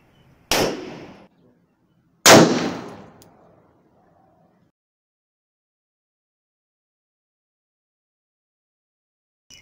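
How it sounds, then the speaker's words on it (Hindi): Two sharp, loud pistol shots from a Chinese 30 bore pistol fired outdoors, spaced about two seconds apart, each with a short decaying echo, followed by silence. "पहले हमने 30 बोर का फायर किया"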